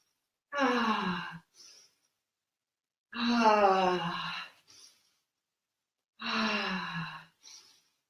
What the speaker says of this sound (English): let's breathe out through the mouth